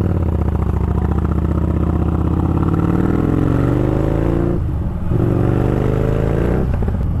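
Harley-Davidson Street Rod 750 motorcycle pulling away from a standstill in third gear, a loud, close, low engine rumble that strains and rises steadily, with a brief dip before climbing again.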